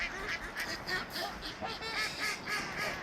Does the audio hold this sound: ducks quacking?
yes